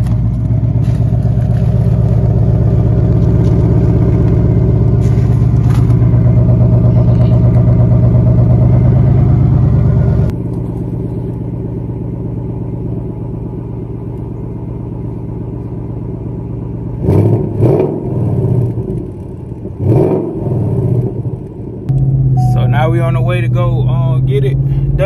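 A car's engine idles with a loud, deep exhaust drone on a warm start before muffler work with a Corsa Double X pipe, then drops to a quieter rumble with brief revs, while a person talks over it.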